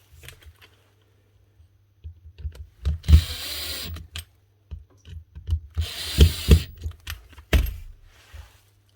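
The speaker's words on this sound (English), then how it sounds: "One old Makita BPD140 18-volt brushed impactor." An old Makita BPD140 18-volt brushed impact driver with a twin-brush universal motor, needing a new armature, fires in short irregular bursts of whirring and rattling hammering, separated by quiet gaps and handling clicks.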